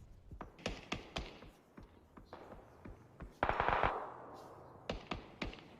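Sharp gunshots and rapid bursts of automatic fire in a PUBG Continental Series esports match, irregular and fairly close, with one denser burst midway.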